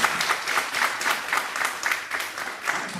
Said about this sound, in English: Please hold your applause so we'll have more time for questions